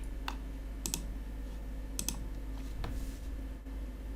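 A computer mouse gives a handful of small, crisp clicks at uneven intervals, close by and isolated against a quiet, humming room.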